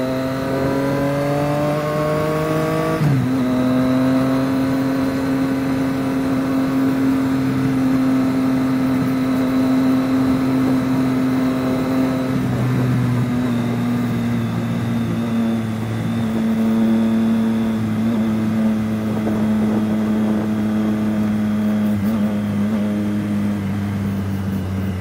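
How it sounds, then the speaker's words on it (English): A Yoshimura exhaust on a 2018 Triumph Street Triple motorcycle rumbles steadily up close with a deep, continuous drone, its pitch shifting slightly early on and then holding fairly even. "just let you listen to this exhaust"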